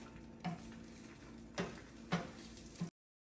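Eggs with salt and pepper being mixed in a bowl, four distinct scraping clinks of a utensil against the bowl over a faint steady hum, then silence.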